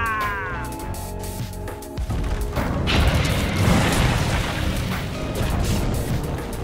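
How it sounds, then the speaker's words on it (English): A tower in the video game Dota 2 collapses, a crashing boom of rumbling debris and mechanical rattling that follows a brief tonal game sound and continues as a sustained roar. "Dire's middle tower has fallen."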